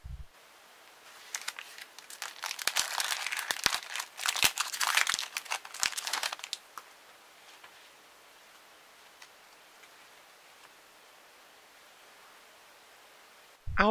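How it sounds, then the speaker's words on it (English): A Battle for Zendikar Magic card booster pack wrapper crinkles and crackles close up for several seconds of rough tearing and crumpling, then the noise drops to near silence. "Today, we've got another pack of Battle for Zendikar, so let's open it up and take a look."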